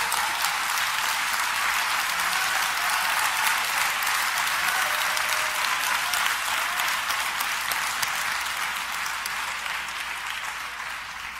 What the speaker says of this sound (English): Y'all better clap.